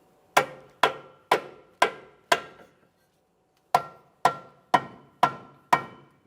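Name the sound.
rubber mallet tapping control arm into place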